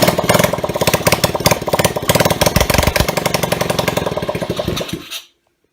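A junk pit bike runs with no exhaust fitted, its engine loud, rough and rapidly pulsing for about five seconds before cutting off abruptly into silence.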